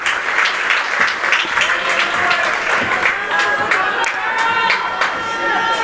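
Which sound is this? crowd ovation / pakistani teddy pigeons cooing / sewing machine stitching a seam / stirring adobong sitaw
crowd ovation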